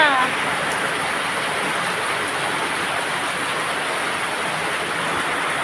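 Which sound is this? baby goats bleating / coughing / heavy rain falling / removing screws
heavy rain falling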